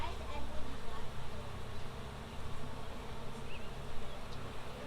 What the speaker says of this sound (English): You want a veil when there's this many bees.